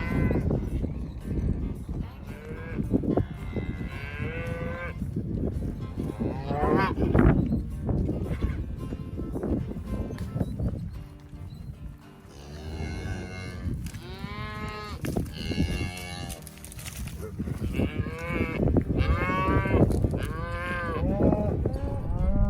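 Cattle moo again and again as a herd is driven through ranch pasture, loud, close calls overlapping in an irregular chorus with some distant bellows and a few voices talking now and then.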